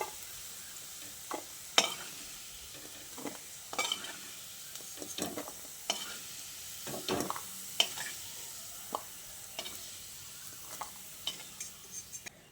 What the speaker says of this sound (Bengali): এবার আমি এই ভাজা আলুটাকে তেল থেকে ছেঁকে তুলে নিচ্ছি।